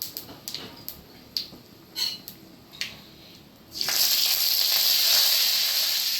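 Dried red chillies drop into hot ghee and oil for a tempering, a few sharp taps first and then a steady, loud, close sizzle that holds to the end.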